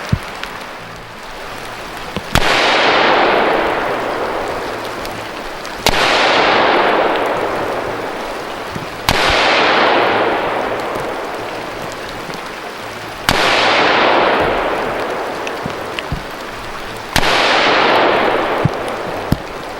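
Five loud, sharp gunshots fired from a standing position at a target 25 yards away, spaced about three to four seconds apart, each followed by a long fading ring-out.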